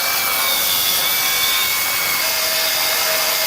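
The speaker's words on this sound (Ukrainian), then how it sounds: "Зараз ми зробимо різь 2 метри кожним з дисків і подивимося, якого більше залишиться." An angle grinder with a 1 mm HOEGERT cutting disc slices through material, a loud unbroken high-pitched grinding roar throughout, no talking.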